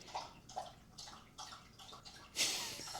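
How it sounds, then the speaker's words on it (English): A pet laps water from a bowl indoors, with a run of soft, rhythmic wet laps close by, then a brief louder splash of water at the end. "She is still drinking her water."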